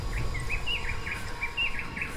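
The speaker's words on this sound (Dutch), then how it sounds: "Vogels." Birds chirp in the video game Dead Island, a rhythmic series of high, repeated tweets over a soft ambient background.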